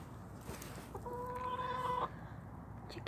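A chicken gives a single drawn-out, nasal clucking call lasting about a second, close by in a coop with a low rumble of background noise around it.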